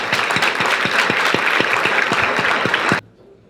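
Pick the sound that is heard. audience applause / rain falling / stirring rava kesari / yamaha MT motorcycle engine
audience applause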